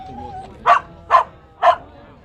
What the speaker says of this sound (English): that's why they're barking.